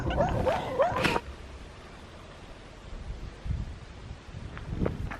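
A guard dog on Bodmin Moor gives a short burst of yips and barks near the start, then fainter scattered sounds follow over steady outdoor wind and rustling.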